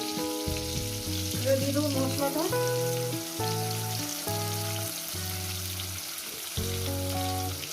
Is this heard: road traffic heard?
no